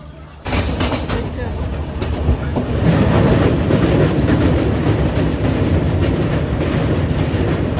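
A Padatik Express train at Mathabhanga railway station on the New Alipurduar to Sealdah route, a loud continuous rumble and rattle of the carriages rising after a quiet start and holding steady to the end.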